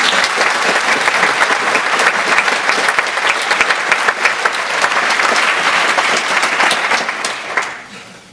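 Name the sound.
applause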